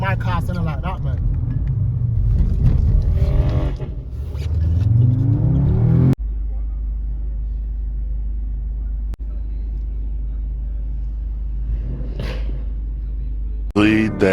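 A BMW M3 estate car engine revs loudly up and down, then settles into a steady low idle rumble, with a couple of short revs near the end.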